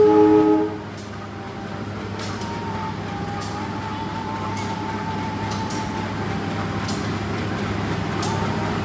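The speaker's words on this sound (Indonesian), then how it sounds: "ini dia kereta api Kuto Jaya Selatan" The Kutojaya Selatan passenger train rolls into an Indonesian station with a steady low rumble and hum, a brief horn-like tone at the start, and faint clanks and voices in the background.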